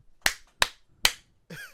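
Three sharp, loud hand claps spaced roughly evenly in a quiet room, followed by a brief voice.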